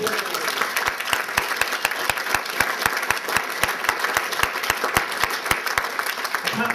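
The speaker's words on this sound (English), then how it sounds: "All right, round of applause for all of them." Steady applause from a crowd, continuous and fairly loud throughout, with sharp rhythmic clicks punctuating it at a regular pace.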